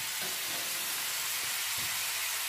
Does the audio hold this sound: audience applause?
no